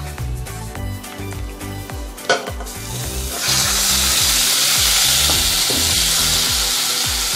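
Beef goes into a pot for kaldereta and starts cooking, with a few knocks and clatters before a loud, steady sizzle rises and keeps frying up close, broken by occasional stirring scrapes; no one speaks.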